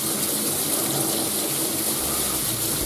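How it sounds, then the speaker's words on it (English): A hot water tap runs steadily while a lemon is scrubbed under it to remove its wax coating, a constant close splashing hiss with no speech. "So give it a good brush under the hot water tap"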